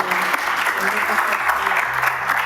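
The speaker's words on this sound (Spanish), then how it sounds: "Dale un fuerte aplauso a nuestro Dios." A church congregation claps loudly and steadily throughout, a dense wash of applause with faint voices or tones beneath it.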